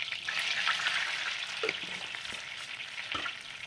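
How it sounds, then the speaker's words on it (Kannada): Cumin seeds sizzling in melted butter in a pan, a steady bright crackling hiss that carries on throughout with a few soft stirring knocks, close and even in loudness with no talking. "ಈಗ 1 ಟೇಬಲ್ ಸ್ಪೂನು ಜೀರಿಗೆ ಹಾಕೋಣ."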